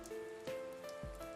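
Night rain in Persona 4 Arena Ultimax falls as a steady, soft patter on surfaces, heard alone at low volume beneath sustained tonal game music.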